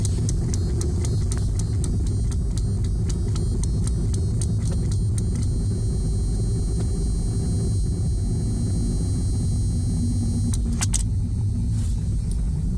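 A Mazda 626 engine strains under cruise control set at 40, heard from inside the car as a continuous loud road and engine rumble, with faint clicks and ticks over it.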